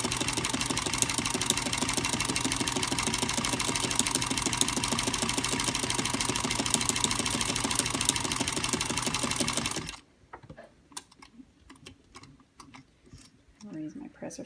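A sewing machine with a zig zagger attachment stitching fabric, running with a steady fast mechanical hum and rapid rhythmic clatter for about ten seconds before stopping abruptly, followed by quiet clicks and handling sounds.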